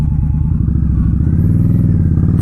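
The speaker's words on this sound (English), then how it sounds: "it's got a grunty V-twin" An Indian Scout Bobber Sixty's V-twin engine rumbles loud and close, a steady, lumpy, pulsing idle-to-low-rev throb with mechanical clatter, no voices.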